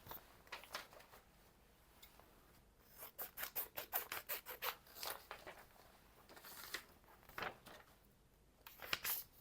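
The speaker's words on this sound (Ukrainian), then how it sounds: "Відкриваємо жовтий конверт." A yellow paper envelope being opened, heard as faint, close crinkling and papery rustles in rapid clusters, with a few sharper crackly snaps; quiet throughout.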